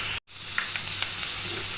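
Ginger fries in a hot tempering of oil for lemon ginger rasam, a close, continuous sizzle with a brief drop to silence near the start and a few faint scraping touches.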